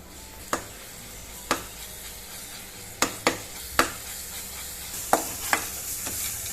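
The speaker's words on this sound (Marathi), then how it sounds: "हे तेल गरम झालेलं आहे, ह्याच्यामध्ये आलं लसूण आणि मिरचीची पेस्ट केलेली आपण ती टाकून घ्यायची." Ginger, garlic and green chili paste fries in hot oil for Hyderabadi chicken dum biryani, a soft steady sizzle. About a dozen sharp spatula taps and scrapes on the pan come at irregular intervals.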